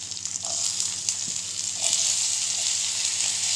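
Chana dal sizzles and crackles in hot oil in a pan, a steady frying hiss with a few small pops and stirring sounds, while making ivy gourd chutney.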